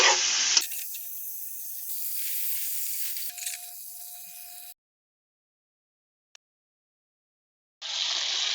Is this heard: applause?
no